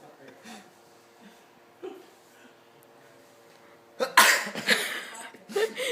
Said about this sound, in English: Why do you sneeze like that?